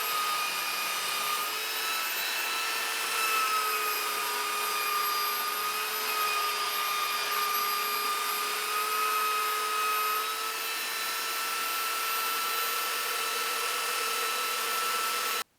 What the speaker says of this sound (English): So I'll use the belt sander.